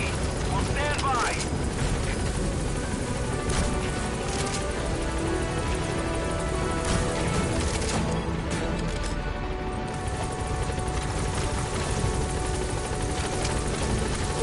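The Pequod helicopter hovering at a landing zone in Metal Gear Solid 5, a steady loud rotor drone that continues throughout, with radio voices speaking over it.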